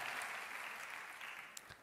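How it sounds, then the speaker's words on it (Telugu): A church congregation claps to glorify God during a Telugu sermon, a dense steady burst of applause that carries on evenly for a short stretch. "గట్టిగా చప్పట్లు కొట్టి దేవుని మహిమపరచండి"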